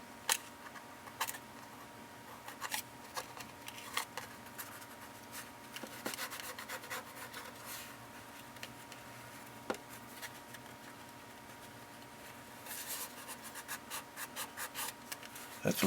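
Close, faint fingernail scratching and rubbing across a Chevy body panel during a build, with scattered light scrapes and small taps in irregular bursts over quiet shop background.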